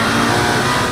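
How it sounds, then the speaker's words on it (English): Race car engine from the Project CARS 2 racing game, a loud, dense, continuous roar at high revs filling a one-second burst with no voices. "All the whines, squeals, clunks, and violence of the cabin of a real race car, plus those exhaust notes."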